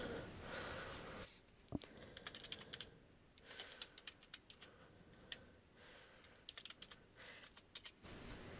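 A password is tapped out on a computer keyboard in quick, quiet bursts of clicking keystrokes, with short pauses between runs of typing.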